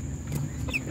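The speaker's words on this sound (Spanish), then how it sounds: "les quiero mostrar también la gallina enana que traje la otra vez" A small bantam hen gives a few soft clucks in a chicken coop, fairly close, against steady low background noise.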